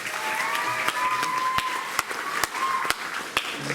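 After the Pledge of Allegiance at a school board meeting, the audience applauds Miss Ibarra: a steady patter of many hands with a few sharp, close claps scattered through, and faint voices underneath.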